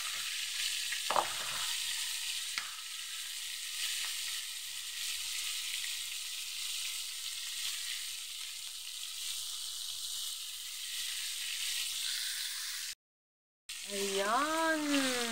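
Fried chicken crackling in hot oil, a steady loud sizzle throughout with a couple of brief knocks early, a short cut near the end, then a voice starting to speak over the frying.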